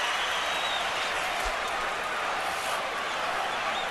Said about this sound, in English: Crowd loves it because they can feel a sense of competition here.